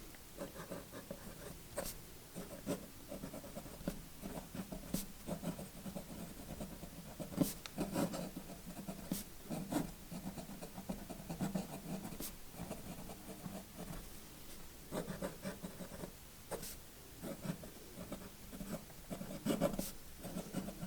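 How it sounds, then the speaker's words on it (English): A Kaweco Perkeo fountain pen writes on paper, producing faint, close scratching strokes in irregular bursts with brief pauses, alone and quiet throughout. "So let's get into a quick writing sample."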